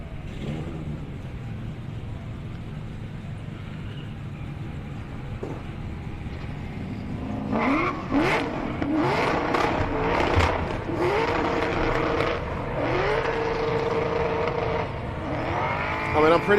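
Drift car at a DriftWars event at Manfeild doing a victory skid, engine rising and falling in repeated revving sweeps with tyre noise after a quieter stretch, loud and fairly close, with crowd or track ambience underneath.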